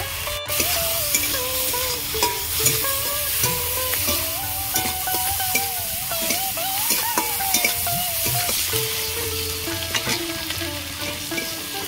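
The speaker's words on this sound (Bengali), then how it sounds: "প্রথমে আমি চিংড়ি মাছগুলো ভেজে নেব" Shrimp fry in hot oil in a pan, a continuous close sizzle with frequent stirring scrapes and clinks throughout, no voices.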